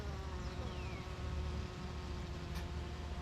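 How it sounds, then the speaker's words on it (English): Honey bees buzz steadily around an open hive during an inspection, a dense continuous drone close by with a few individual bees whining past. "So we got plenty of bees."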